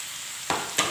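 Onions with curry leaves and green chillies sautéing in a pan, a soft steady sizzle followed by two short scraping stirs, close and clear with no talking.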